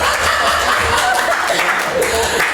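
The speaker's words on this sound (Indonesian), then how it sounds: "Tepuk dulu para istri." Audience at a church fellowship gathering applauding the pastors' wives, steady dense clapping with some laughter mixed in, filling the room throughout.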